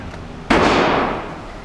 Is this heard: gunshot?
yes